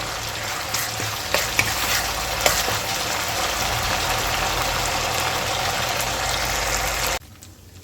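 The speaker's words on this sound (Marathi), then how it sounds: "आपला हा मसाला छान भाजून घ्यायचा आहे याला छान मंद मंद गॅसवर हा मसाला होऊ द्यायचा आहे" Spiced masala roasting in oil over a low gas flame for a moringa pod curry, giving a steady close sizzle and frying crackle with a few stirring clinks, then cutting off abruptly near the end.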